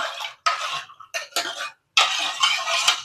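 Repeated scraping and clinking of a utensil against a pot, in several short bursts separated by brief pauses, close up with no talking.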